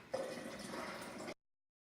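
Water pours from the spigot of a Berkey water filter into a bottle, a short steady trickle rising slightly in pitch as it fills, then stopping abruptly.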